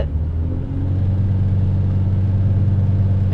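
A K24 all-motor engine in an Acura RSX hums at a steady 3000 RPM on a dyno, a loud, even low drone with a slight rise in pitch early on, held without talk.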